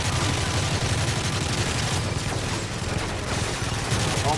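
Heavy, dense gunfire in Call of Duty: Modern Warfare 3 roars without a break, a continuous wall of rapid shots and blasts, loud and close throughout.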